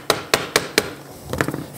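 A hammer taps frets into a guitar fretboard while a Telecaster is assembled: four sharp, evenly spaced strikes, then a softer cluster of quicker light taps, close and loud with no talking.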